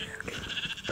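Sheep bleating in the Minecraft video game, a few short nasal bleats repeating close and fairly loud over a steady game background, with no talk.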